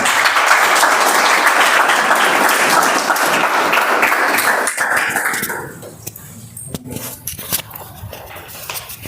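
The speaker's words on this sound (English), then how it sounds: "Guys, applause!" Loud, sustained applause from a crowd at a Toastmasters meeting fills the first half, then fades into scattered claps and room noise.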